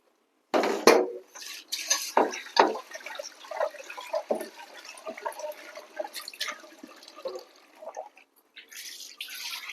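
Ration split lentils (dal) being washed by hand in water, with repeated splashing, sloshing and clinks of a metal vessel in uneven bursts, close and fairly loud.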